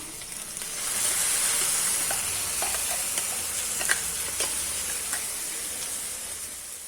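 A thick ground lentil paste hits a hot pan of frying onions and sets off a loud, steady sizzle, with a few light scrapes and pops as it fries.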